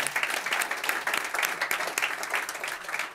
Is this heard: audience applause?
yes